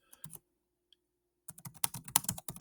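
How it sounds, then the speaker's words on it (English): A few computer keyboard keys are pressed together for a Control-Alt-M shortcut, a brief click at the start, then a quick burst of several close, crisp keystrokes after a pause. "At the same time, hit the keys, Control-Alt-M."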